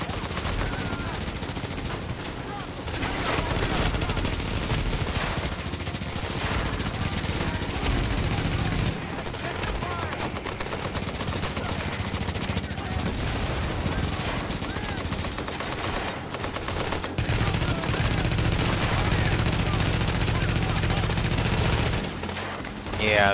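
Sustained automatic gunfire in the shooter game Tom Clancy's The Division, a dense, continuous roar of rapid shots with layered explosions and combat noise throughout, with brief lulls between long bursts.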